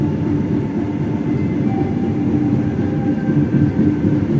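A commuter train on the newly added track between Jatinegara and Manggarai runs straight through Matraman station without stopping. Heard from on board, a steady low rumble with faint wheel clatter continues without a break.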